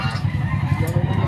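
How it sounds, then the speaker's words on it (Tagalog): Chickens, including Wheeler-breed birds, cluck and murmur in a low, continuous chorus close by at an animal market in San Carlos City, Pangasinan, Philippines, with a busy poultry-yard clamor throughout. "dami nating mga manok na available dito"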